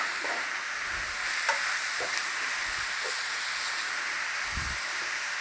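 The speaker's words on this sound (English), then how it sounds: "Give it a stir in so the mince takes on that flavour as it's cooking." Minced meat frying with oregano, allspice and cinnamon for moussaka, a soft even sizzle with a few faint, sparse spoon taps and stirs, quiet and without talk.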